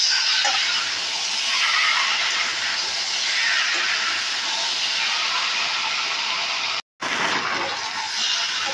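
Jackfruit and fried potatoes sautéing in oil in a pan, a steady broad sizzle and hiss running throughout with a brief cut near the end, no voices.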